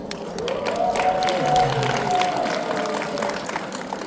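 An audience at a seminar cheering and clapping, a dense continuous wash of applause and voices of moderate loudness, with a few louder shouts rising briefly.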